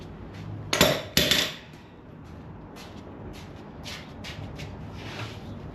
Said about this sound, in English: let's grab the torque wrench